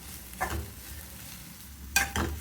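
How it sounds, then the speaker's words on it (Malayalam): Grated coconut being stirred into a frying curry of turkey berries, with two brief close scraping strokes over a soft continuous sizzle, no voices. "തേങ്ങ നന്നായിട്ട് ഇളക്കി കൊടുക്കാം"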